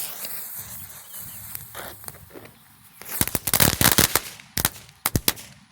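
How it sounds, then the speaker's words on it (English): A TNT Fireworks Ground Blaster goes off outdoors, starting with a hiss and a few pops, then breaking into a fast burst of sharp crackling bangs and a few last cracks, loud and close. "let's check out Ground Blaster from TNT Fireworks, and let's see what these things will do"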